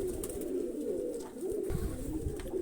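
Pigeons coo softly and continuously, a low throaty burbling close by with faint background noise.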